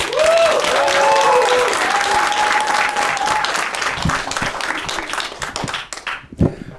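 Loud, rousing audience applause at a Ukrainian roast battle show, dense clapping with a few whoops over it, thinning out into scattered claps and silence at the end.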